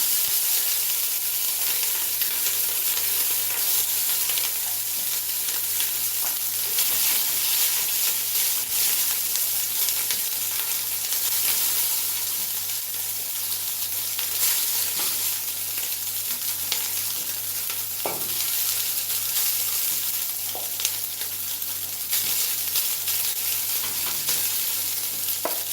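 Rice for beef biryani sizzles and crackles steadily in a hot pot as it begins to burn, a constant frying hiss with occasional louder pops and stirring sounds.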